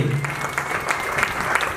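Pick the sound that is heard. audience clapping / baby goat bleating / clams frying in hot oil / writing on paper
audience clapping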